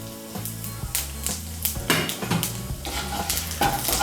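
Tempering of bay leaf, dried red chilli and whole cumin seeds sizzling in hot oil in a pan, close and steady, with a spoon stirring and scraping against the metal throughout.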